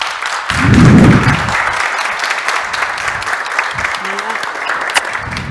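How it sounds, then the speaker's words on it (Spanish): An audience at a live Spanish-language testimony event breaks into a short swell of applause that fades into scattered clapping, with a voice and room noise underneath. "Un fuerte aplauso"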